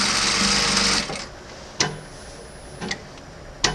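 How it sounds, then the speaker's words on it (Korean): MS 9800-K electronic lockstitch sewing machine with automatic thread trimmer running in a fast, dense whir for about a second, then stopping, followed by several sharp mechanical clicks from the presser foot and trimmer. "발판을 앞으로 밟게 되면 박음질, 깊게 밟을수록"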